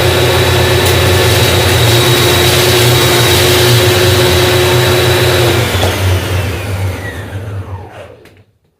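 A Fiat Idea's engine runs steadily at close range during an alternator check where the alternator shows a bearing noise, with a loud low hum and a bright whine, then winds down and cuts off near the end.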